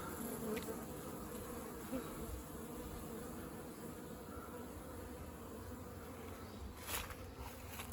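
Dense, steady buzzing of many bees fills the clip, a continuous close hum with a brief louder swell near the end.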